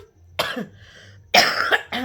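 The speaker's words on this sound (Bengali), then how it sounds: "কি বলবো কাশিটা এত বাজে হচ্ছে" A person coughs in two harsh bursts a second apart, close and fairly loud in a quiet room, with a softer catch of breath in between.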